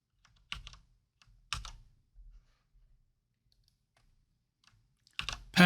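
Short bursts of typing on a computer keyboard, close and crisp, three clusters of key clicks separated by quiet pauses, with no talk.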